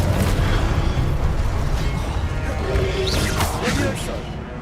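The Confringo explosive spell in Hogwarts Legacy gives a steady roar of blasts and crashing bursts that rumbles throughout with no break, with a few sharper pops rising near the end.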